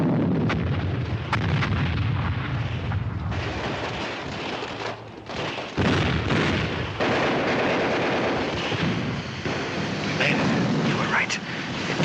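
Heavy artillery guns boom repeatedly in a war film battle scene, dense roaring blasts and rumble filling the clip, with shouted voices and engine drone mixed in.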